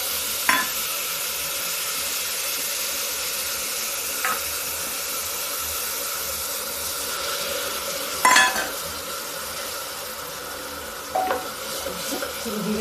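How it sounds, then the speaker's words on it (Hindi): Steady sizzling of ginger, garlic and onion paste frying in a pan, with occasional sharp clinks of a spoon stirring against the pan; no talking. "देखिए, लहसुन प्याज मेरा भून गया है"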